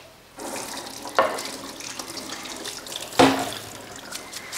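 Cold tap water runs into a sink over strained vermicelli noodles in a kitchen, a steady close hiss with two sharp splashy bursts as the flow shifts.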